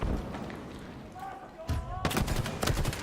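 Gunfire in a Halo World Championship match between OpTic Gaming and FaZe Clan: a quiet start, then a dense burst of sharp rapid shots and thuds under excited commentary.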